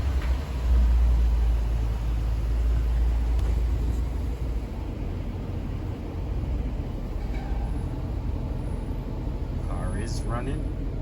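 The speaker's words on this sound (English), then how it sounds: "Car is running." A Chrysler 300 with a 5.7 engine runs at a steady idle in an auto repair shop during an A/C condenser replacement, a constant low rumble with people talking over it.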